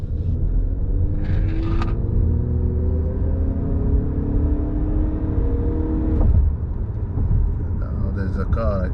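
A 2020 Honda Accord Hybrid cruising on a highway gives a steady low road rumble and cabin drone with a faint rising engine tone, and someone talks over it.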